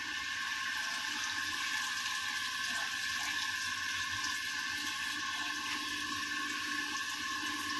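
Steady rushing water runs continuously as tamarind water is poured into a cooking pot, with no pauses or voices.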